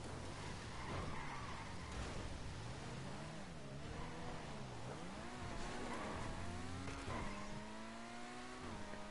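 Racing car engines in a video game, loud whining revs that climb and drop repeatedly through gear changes as the cars accelerate, with tire noise underneath and no voices.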